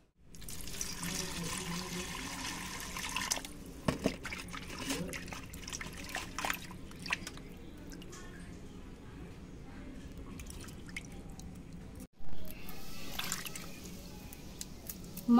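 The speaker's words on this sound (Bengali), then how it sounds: "এই মাছ আমি খুব ভালো করে ধুয়ে নেব" Quiet running tap water splashing and trickling as fish are rinsed in a kitchen sink, steady soft wash with brief clatters and a short pause near the end.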